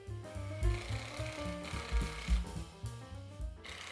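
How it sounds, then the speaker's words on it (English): A power driver sinks 40 millimeter screws through chipboard loft boards into the beams. Several short, loud bursts of motor whine and grinding come up close, with brief dips between them. "I can then drive in the 40 millimeter screws."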